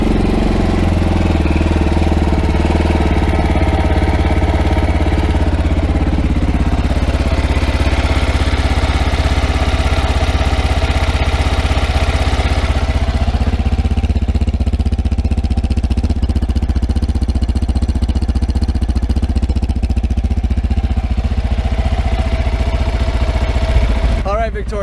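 A Zongshen RX3 motorcycle engine runs loud and close at a steady idle, its low rumble continuous throughout with a slight shift in tone partway through.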